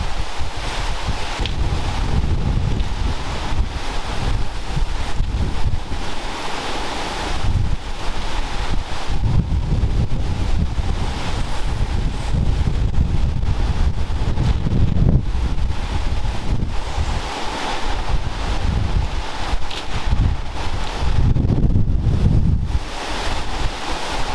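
Strong hurricane wind roars continuously, buffeting the microphone with loud, gusting rumble and a dense rushing hiss that surges and eases without pause.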